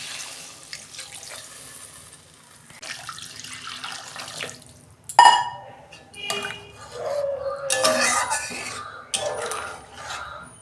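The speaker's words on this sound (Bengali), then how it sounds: "এই যে আমি জল দিয়ে দিচ্ছি।" Tap water pours into a pan of thin magur fish curry, a steady running splash with clinks of a pot and utensils and a louder gush midway, no voices.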